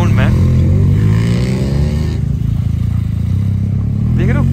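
A motorcycle engine thumps and revs loudly up close on a mountain ride in Ladakh, a steady low rumble with people speaking over it.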